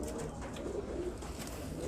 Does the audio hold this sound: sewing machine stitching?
no